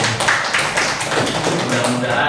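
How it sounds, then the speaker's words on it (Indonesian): Audience clapping in tribute to a deceased person at a group session, a dense steady patter of many hands lasting throughout, with voices mixed in underneath. "kita tepuk tangan untuk almarhum"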